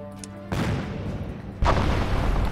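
Naval guns aboard a warship in Battle Fleet 2 open fire on coastal artillery: two heavy booming salvos, the second louder, each leaving a rumbling wash of noise behind it.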